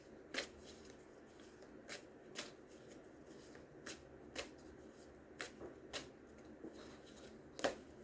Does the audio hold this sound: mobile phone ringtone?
no